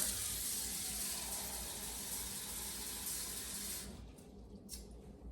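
Warm water runs from a kitchen tap into a measuring cup for soft pretzel dough, a steady close hiss that cuts off near the end, followed by faint handling sounds.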